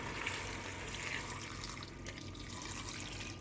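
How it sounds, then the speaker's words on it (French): Milk and 50 centilitres of hot water are poured directly over vegetables for a garden pumpkin soup, making a continuous, soft liquid stream that stays even and quiet throughout. "je viens verser directement sur mes légumes"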